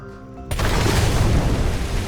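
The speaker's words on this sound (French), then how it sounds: "Ça fait quoi si j'explose ce truc?" An object blows up in Ori and the Blind Forest, a sudden deep boom that cuts off quieter tonal game music and rolls on as a loud, sustained rumbling burst.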